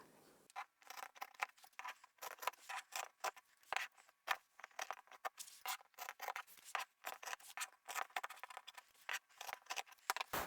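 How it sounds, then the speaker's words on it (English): Scissors chop through several stacked layers of cotton or upholstery fabric to trim the corners of a boxy bag, a steady run of close, crisp snips and rasps, quiet overall and without talk. "we'll cut through all the layers"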